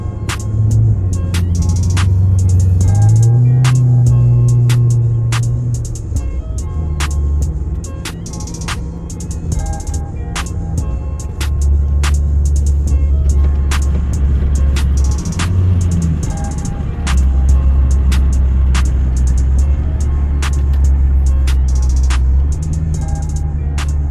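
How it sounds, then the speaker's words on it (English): Cabin of a Ford Mustang 5.0 fitted with an X-pipe and K&N intake: a loud, deep engine drone rises and falls through the gears, throbbing low and steady, with sharp clicks ticking over it throughout. "Here's a bit of footage of the interior noise."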